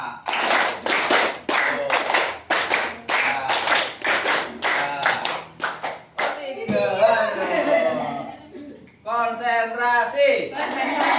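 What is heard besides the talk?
group clapping a counted rhythm pattern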